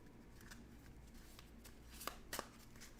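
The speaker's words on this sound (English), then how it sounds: "Then shuffle the encounter deck and attach one encounter to each objective card." A deck of encounter cards for The Lord of the Rings Living Card Game is shuffled at a table, brief riffling bursts rising over a quiet room near the end.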